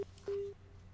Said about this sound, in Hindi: लगता है फोन डिस्कनेक्ट हुआ